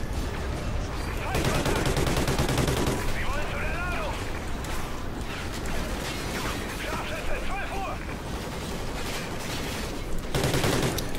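Rapid gunfire bursts from the video game Call of Duty Ghosts, with loud volleys at the start and end and a voice talking over quieter stretches in between.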